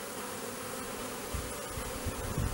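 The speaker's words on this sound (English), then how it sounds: "I have a lot of bees scenting at the front" A honey bee swarm buzzing at a hive entrance, bees fanning and scenting out front, a dense steady hum with low thumps of handling nearby.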